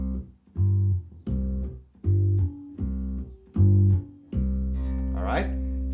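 Deep bass guitar notes in a bluegrass pattern, a C followed by a fretted G just above it, played in a steady alternating rhythm of sustained low tones, close and clear with no talking.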